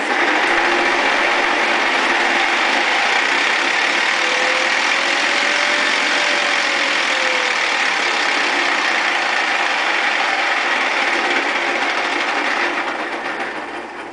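An electric car motor spins a transmission with no oil in it, sitting on a wooden block on a bench, giving a loud steady mechanical whir and rattle that holds constant before tapering off at the end.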